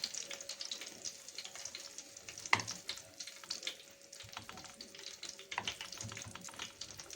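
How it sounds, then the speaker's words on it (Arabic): Flour-coated eggplant fries quietly in oil, a low steady sizzle with scattered crackles and one sharp clatter of a utensil partway through, no one speaking. "هبتدي اغطي كده البتنجان بتاعنا بالدقيق وابتدي احط في الزيت"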